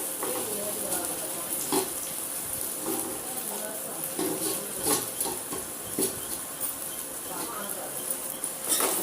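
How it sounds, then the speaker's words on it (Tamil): Carrots and beans sauté in a pan with tomatoes for veg noodles, producing a continuous bright sizzle with repeated scraping and stirring knocks at a steady pace throughout. "தக்காளி வதங்கினோடனே இப்போ கேரட் பீன்ஸ் போட்டு அதையும் நல்லா வதக்கிக்கலாம்"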